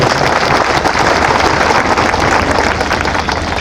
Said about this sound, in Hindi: हमारे पिता तुलसी रामचरित्र बाबू के लिए एक बार जोरदार तालियां बजाओ